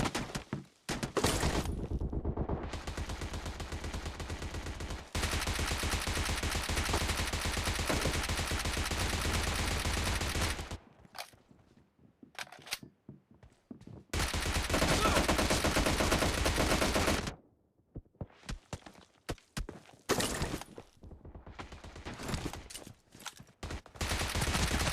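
Shotgun fire in PUBG Mobile on the library team deathmatch map: long dense bursts of loud gunfire and blasts, broken by short quiet gaps with scattered single shots and footstep-like thuds.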